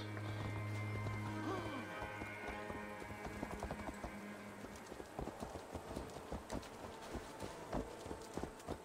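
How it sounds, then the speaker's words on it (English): Horses galloping toward the player in Assassin's Creed Valhalla, with a rhythmic hoof clatter building and drawing nearer over an ambient game hum, a brief whinny-like tone early on, and some faint voice. "People need to be better at seeing horses in the distance running at them."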